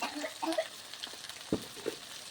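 Faint frying of masala with chopped tomatoes, turmeric and coriander powder in a pan for chicken kosha: soft sizzling with a few light stirring scrapes and clinks, quiet and close.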